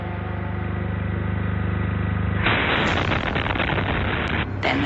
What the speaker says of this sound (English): Then there was a second explosion.